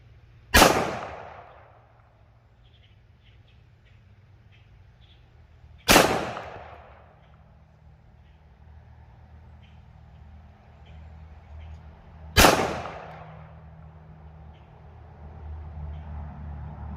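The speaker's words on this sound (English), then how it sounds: "So let's do one-handed shooting." Three loud, sharp reports from a Nighthawk Custom GA Precision 1911 pistol fired one-handed, spaced several seconds apart, each with a quick decaying echo over quiet outdoor background.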